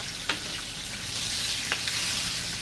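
Pork pieces for lechon kawali fry in hot oil over high heat, a dense, steady sizzle with a couple of faint pops, close and continuous.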